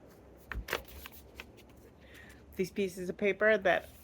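Pieces of paper are handled and shuffled with soft rustles and flicks, while someone talks over them in the second half.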